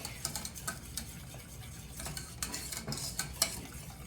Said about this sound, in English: we'll whisk it away